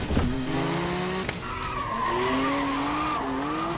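A 525 brake horsepower turbocharged car with no driver aids skids hard, its tires squealing in long wavering pitches over a loud, steady engine roar, close and continuous throughout.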